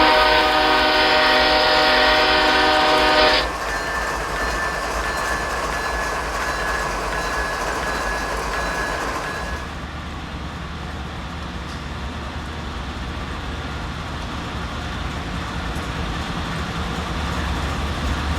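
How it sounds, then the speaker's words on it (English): Norfolk Southern GE Gevo and Dash 9 locomotives hauling coal hoppers in Railworks, heard as a steady loud diesel rumble with a sustained horn blast at the start, then continuous engine drone and rolling noise. "The Gevo and Dash 9 have decent cab views and okay sounds."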